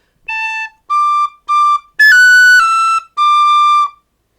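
Tin whistle playing a phrase of Paddy Fahey's Jig, an Irish tune: five clear, sustained notes alone, the first three short and separated, the last two longer and louder, with no talk.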